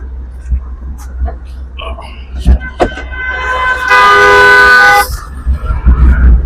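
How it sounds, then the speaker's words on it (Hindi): A loud car horn blares in one sustained blast lasting about a second, amid roadside traffic noise near Damdama Lake, Sohna, with brief knocks and voices nearby. "गाड़ी वाला पीछे से हॉर्न मार रहा है।"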